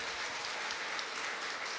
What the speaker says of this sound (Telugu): ప్లీజ్ ఒక్కసారి గట్టిగా చప్పట్లు.